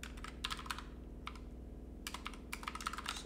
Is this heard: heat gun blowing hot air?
no